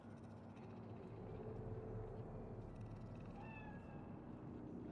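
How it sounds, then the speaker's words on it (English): A cat meowing in Cyberpunk 2077's Night City, a couple of short faint meows near the end over a steady low ambient hum. "Do you see it? That cat?"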